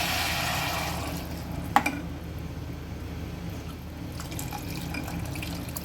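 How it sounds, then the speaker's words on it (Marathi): Water pours in a steady, splashing stream into a pressure cooker pot of whole masoor lentils, with a brief clink partway through. "यामध्ये आपण दोन पेले पाणी टाकून घेणार आहोत"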